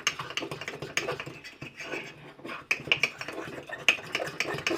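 A spoon stirring chocolate and peanut butter mug cake batter in a mug, with quick irregular scraping and clinking strokes against the sides, close and moderately loud, with brief pauses between bursts.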